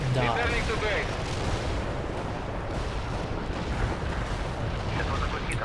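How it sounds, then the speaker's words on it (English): Artillery barrage in the real-time strategy game World in Conflict, a dense, continuous rumble of distant shell impacts and blasts filling the whole stretch at steady loudness, with a radio-style voice speaking briefly at the start. "Launching the barrage."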